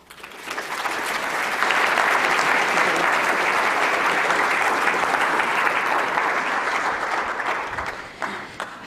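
Audience at a science lecture symposium claps to welcome the speaker, a dense, sustained round of applause that swells quickly, holds steady and tapers off at the end.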